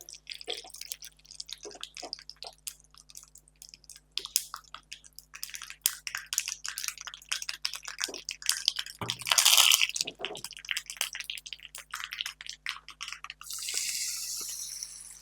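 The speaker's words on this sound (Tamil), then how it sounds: "கடுகு போட்டிருக்கேன். கடுகு பொரிஞ்சு வரும்போது" Mustard seeds popping and spluttering in hot coconut oil in a pan, a dense, irregular crackle of small sharp pops, close and fairly quiet, swelling into a brief louder sizzle midway.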